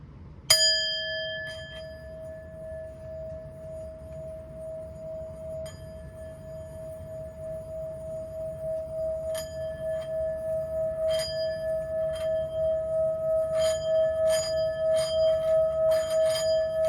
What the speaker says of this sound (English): You're going to hear a loud ringing sound.